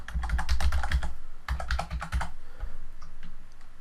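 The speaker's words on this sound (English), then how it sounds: "I'm going to type in a password that is memorable to me." Rapid keystrokes on a computer keyboard as a password is entered, a dense run of close clicks with a short pause midway, then sparser taps at the end.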